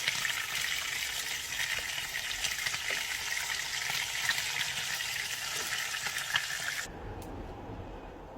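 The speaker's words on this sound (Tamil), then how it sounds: "மீன் வந்து நன்றாக பொரிந்து விட்டது மற்ற பக்கம் திருப்பி விடுவோம்" Fish fries in a pan over a wood-fire stove, giving a continuous close sizzle with faint crackle that cuts off abruptly near the end, leaving a quieter low background; no one speaks.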